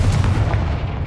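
Confringo explosive spell from Hogwarts Legacy, a loud booming blast with a dense low rumble that fills the whole moment, no voices over it.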